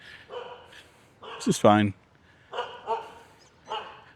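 Dogs barking sharply at a temple in Siem Reap, Cambodia: a brief cluster of loud, close barks midway, with someone talking before and after.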